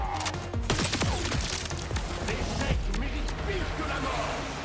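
Dense Borderlands 4 video game gunfire, rapid bursts and impacts piling up over busy in-game action, with a voice talking over the fighting.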